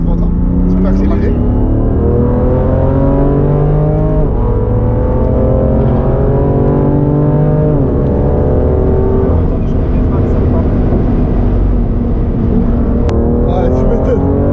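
A car accelerates hard on the Nürburgring race track. The engine note climbs repeatedly through loud, close, rising sweeps with brief dips between gear changes, sustained throughout.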